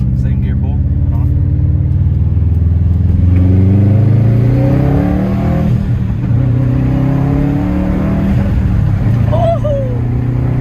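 Subaru STI fitted with a Cobb Redline carbon intake pulls hard through second gear, a loud continuous engine drone rising in pitch across the whole stretch while people talk over it.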